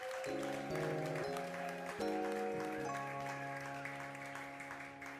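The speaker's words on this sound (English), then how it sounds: "let's give another round of applause to Rev Pam for her incredible first holiday" A church congregation applauds its reverend after a holiday Sunday Christmas pageant message, the steady clapping mixed with sustained organ-like chords that shift underneath.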